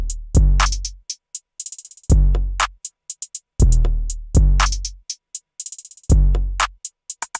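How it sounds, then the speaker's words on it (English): Trap drum pattern programmed in FL Studio: booming 808 bass hits with long decays, sharp claps and fast hi-hat rolls repeating in a steady loop, dry and unprocessed, loud and alone without any voices. "And all the drums together, including the 808, sound like this."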